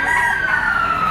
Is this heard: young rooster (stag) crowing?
yes